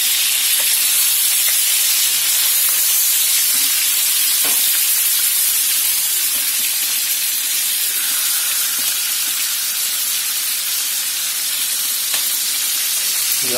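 Turkey pieces browning in olive oil in an electric paella pan, giving a loud, steady sizzle and hiss that runs throughout with faint stirring knocks and no talk.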